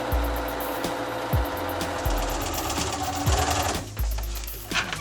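Sewing machine running in bursts while stitching a pocket at a very short stitch length, with several distinct rhythmic runs of mechanical chatter separated by brief pauses, close and fairly loud with no speech.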